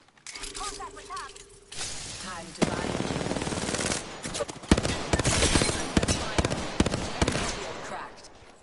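Video game gunfire rattles in loud rapid bursts of automatic fire, with sharp repeated shots and impacts filling most of the stretch while players talk over the action.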